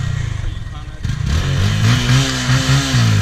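A small motorcycle engine revs up after a brief pause, its pitch rising and wavering in short bursts near the listener, with people talking around it.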